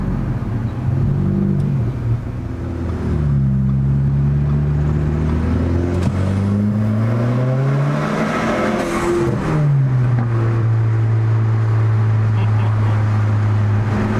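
Tuned Audi A4 B8 with a 300 hp Stage 2 tune accelerating onto a highway on-ramp, engine note rising and falling through gear changes, steady close cabin rumble throughout.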